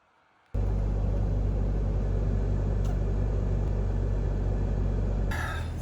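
Steady low engine-idle rumble inside a parked car on an Alaskan night, continuous and fairly loud after a sudden start, with a brief rustle near the end.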